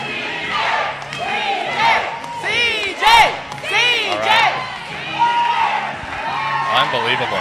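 Crowd at a Huntsville fitness competition qualifier roars and cheers, with shouts and whoops rising and falling in waves throughout, loud and close, with voices yelling over the din.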